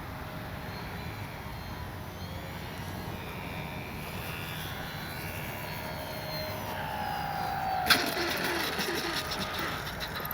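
A small electric E-flite Sportix RC airplane comes in to land, its propeller drone a thin, steady buzz at a moderate distance over outdoor wind noise, ending in a brief sharp knock near the end.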